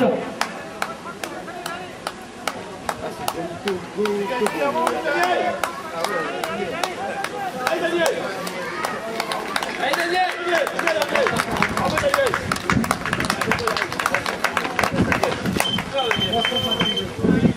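Spectators clap steadily at a running race finish line, a dense patter of many hands that swells toward the end, heard beneath an announcer's ongoing commentary over a loudspeaker.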